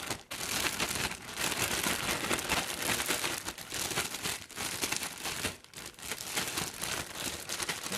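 Sweet potato fries tossed with cornstarch seasoning, apparently in a bag, give a loud, dense crinkling rustle that surges in vigorous waves with brief pauses, close up and continuous.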